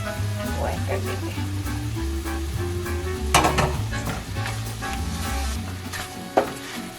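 Canned tomatoes fry in a pan for butter chicken while being stirred, a steady close sizzle with scraping strokes and occasional clinks of the utensil against the pan.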